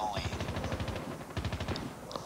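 Rapid machine gun fire in a video game, a dense stream of fast repeating shots in bursts that is loud and steady, with a brief muffled voice near the start.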